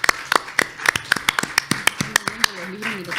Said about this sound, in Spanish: por favor, aplaudamos esta mansa producción que nos tienen preparada